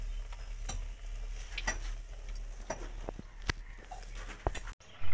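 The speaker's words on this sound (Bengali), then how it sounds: "গাইস বেগনিগুলো ভালো করে ভাজা হোক" Beguni, eggplant fritters, frying in hot oil: a soft continuous sizzle broken by irregular sharp clicks and taps, likely utensils against the pan, with no talk, ending in a brief cut.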